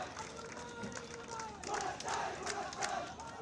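A crowd at a ceremony honouring a Bangladeshi under-20 national football team claps and cheers, a steady distant wash of applause with scattered shouts rising toward the end.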